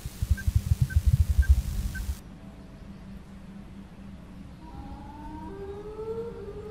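A low, throbbing pulse gives way to a distant wailing siren whose tones slowly rise and drift, faint over a steady hum.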